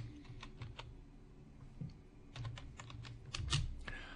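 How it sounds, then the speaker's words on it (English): Fingers type on a computer keyboard, close and fairly quiet, with irregular runs of soft key clicks that grow denser and louder toward the end. "So let's type this in."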